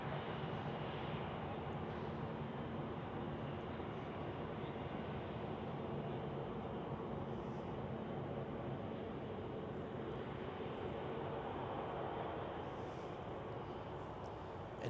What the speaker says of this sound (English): like this A320 of Edelweiss going to Iceland, to Reykjavik